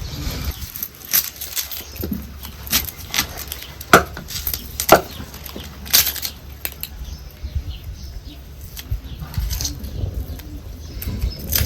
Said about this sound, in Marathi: त्यावर आपलं कांदा गिंदा चिरून घ्यायचा